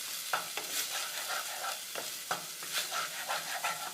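Fish curry paste fries in oil while a spoon stirs it in a quick, steady rhythm, each scrape and tap sounding close over a constant soft sizzle.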